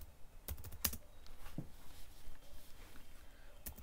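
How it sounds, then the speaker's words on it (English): A terminal command is typed on an Ubuntu 20.04 computer's keyboard, heard as a few sparse, sharp key clicks spread over a quiet background hiss, with no speech. "you can simply install it by typing here sudo apt hyphen get install"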